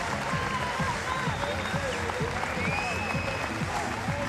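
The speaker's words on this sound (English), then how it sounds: "Everyone standing and applauding." A cricket crowd at an Australia versus South Africa Test match stands and applauds, a steady loud wash of clapping and crowd noise with a commentator's voice faintly underneath.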